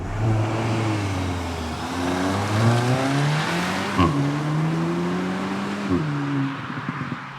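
A 2023 Cupra Formentor VZ3 accelerates hard, its engine note climbing steadily and dropping sharply at two quick gear changes, loud and continuous from start to finish.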